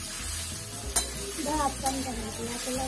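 Khurasani, a wild vegetable mixed with salt and chili, sizzles steadily as it fries on a griddle with onion and oil, with a few sharp scrapes from the stirring utensil over the continuous hiss.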